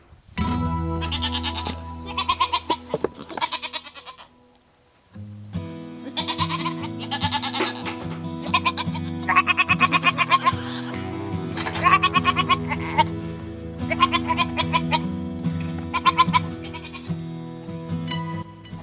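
Goats bleat repeatedly at close range, loud wavering calls in several bursts with a short quiet gap early on, over a steady low background.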